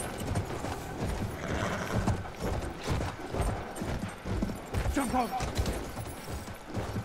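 Horse hooves clopping steadily while riding across the Sinai Desert in the video game Battlefield 1, a continuous galloping rhythm at moderate volume with a brief whinny and a voice speaking over it.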